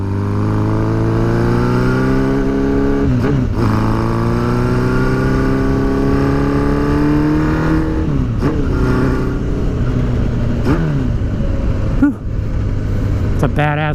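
An old school bobber motorcycle being ridden, its engine droning loud and close with rising revs through the gears and brief dips at each shift, while someone talks over it.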